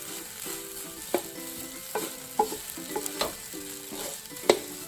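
Fried rice with oyster and soy sauce is stirred and tossed in a hot pan, a soft sizzle under repeated scraping strokes and clinks of a utensil against the metal, close and without speech.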